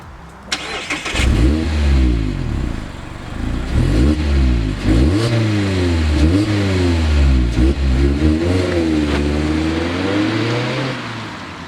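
A 2024 Mazda MX-5 ND3 revs loudly while driving, its engine climbing and dropping through repeated gear changes in a steady, close rhythm with no talk.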